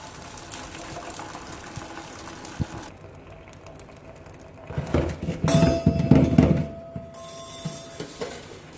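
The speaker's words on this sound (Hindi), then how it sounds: "अब मैं इसका पानी उंडेलने लगी" Water is poured off a pot of cooked rice for sweet zarda, splashing and gurgling for a few seconds amid clinks of metal cookware in a home kitchen, with no voices.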